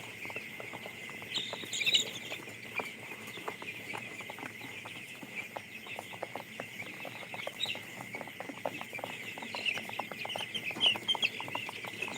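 Chickens on a poultry farm cluck and chatter continuously, with many birds overlapping at moderate distance under a constant high background hum and scattered sharper calls, with no one talking.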